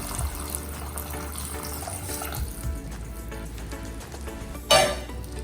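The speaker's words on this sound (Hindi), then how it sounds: "जितना आपको सूप चाहिए उतना स्टॉक डालिए" Vegetable stock pours into a pot of mixed vegetable soup with a soft, continuous watery trickle, then a brief, louder splash near the end.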